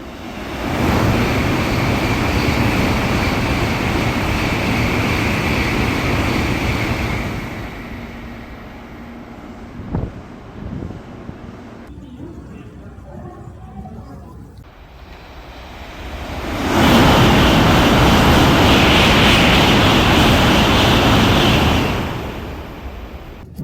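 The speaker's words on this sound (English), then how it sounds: "watch those Shinkansens roar by at full speed" Two Shinkansen bullet trains rush past a platform one after another at full speed, each a loud roaring whoosh that swells and cuts off, with a quieter gap between them.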